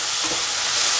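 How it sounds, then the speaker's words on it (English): Potatoes, tomatoes and tomato paste with pepper powder and salt sizzle steadily in a hot pan while being sautéed, a close, continuous frying hiss. "Mix thoroughly so that they are all incorporated. Keep on sauteing"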